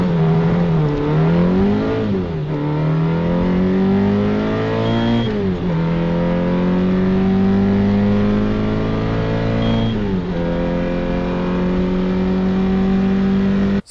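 A 4.2-litre V8 from a TVR Cerbera revs hard and loud for the whole stretch, climbing and dropping in several sweeping pulls with a steady rasping drone held between them, heard alone with no talking.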